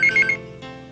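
A telephone rings briefly indoors, a short electronic warble lasting under half a second, then fades into quiet room tone.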